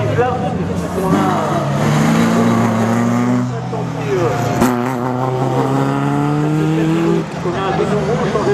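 A race car on a slalom track revs and accelerates through gear changes, the engine loud and close with rising and falling pitch, while a commentator speaks over it.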